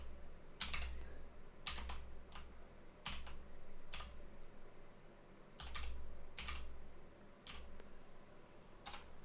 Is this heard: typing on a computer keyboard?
yes